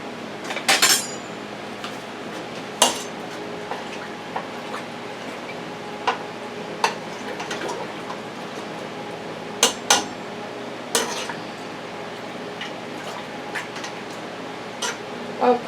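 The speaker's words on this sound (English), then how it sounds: "That's about 4 tablespoons of Italian seasoning. And I'm going to stir that up." Spoon clinking against a pot while stirring Italian seasoning into turkey soup, sparse metallic taps and scrapes at irregular intervals over a quiet kitchen background, with no talking.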